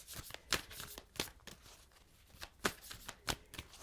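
A deck of tarot cards is shuffled by hand in a series of crisp, riffling bursts with brief pauses between them, close and fairly quiet with no talking.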